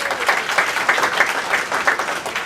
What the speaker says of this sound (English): Clap if you know Sting.